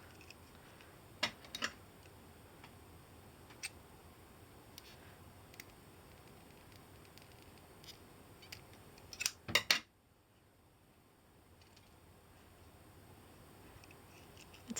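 Scissors snipping plastic tubing for a woven sun hat, a few quiet sharp clicks scattered across an otherwise hushed room, with a brief louder cluster of cuts near the middle.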